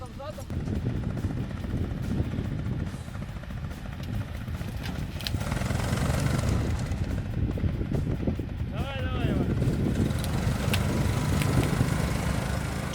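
A homemade Finist off-road ATV engine drones steadily while pulling a stuck tracked vehicle out near thick bank ice, the motor note rising and falling, with people talking over it.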